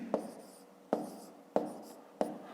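Pen or pencil marks set down by hand while working a long multiplication, landing as four sharp taps spaced evenly about every 0.7 seconds against a soft background.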